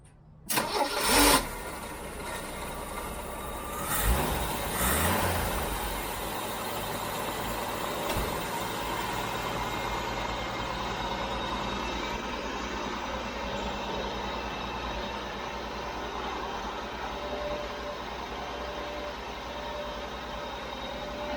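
Jeep CJ-7 engine being started after fitting a fuel pressure regulator: a short cranking burst catches, revs up loudly around five seconds, then settles into a steady rumbling idle that runs on close by.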